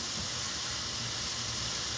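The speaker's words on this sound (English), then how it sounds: "I'm sauteing my zucchini and squash and green beans and onion, accompanied by some portobello mushrooms." Zucchini, squash, green beans, onion and portobello mushrooms sauté in a hot pan, giving a steady, close, broadband sizzling hiss with no voices.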